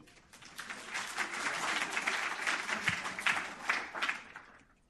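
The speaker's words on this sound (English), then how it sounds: "So please, a round of applause for Olivia." Audience applause at an undergraduate neuroscience conference, a fairly quiet, somewhat distant crowd clapping continuously for several seconds, swelling in the middle and then tapering off.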